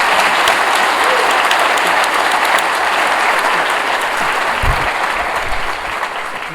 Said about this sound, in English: I think you all deserve another round of applause for all that